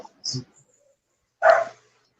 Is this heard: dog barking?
yes